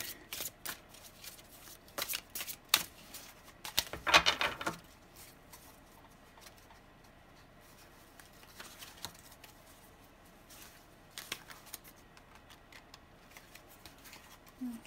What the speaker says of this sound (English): I'm just going to shuffle and choose my card for December